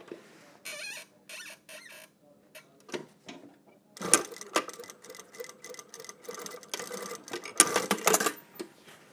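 A sewing machine stitches a trouser jet pocket in several runs of fast, even mechanical whirring and clatter, stopping and starting between short bursts, close and clear with no talking.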